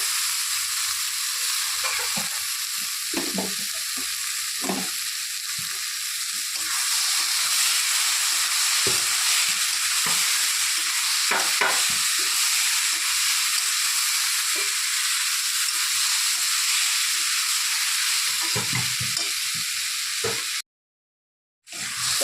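Chana dal is tipped into fried masala in a pan and stirred, giving a loud, continuous sizzle with repeated scrapes and clatter of stirring, then a brief silence near the end.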